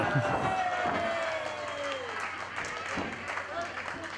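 Wrestling fans in an arena cheer and applaud a performer, a steady bed of clapping and crowd noise running throughout while a commentator talks over it.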